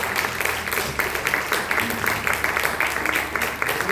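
A church congregation at a worship service claps steadily and continuously, a dense wash of applause filling the room at moderate loudness.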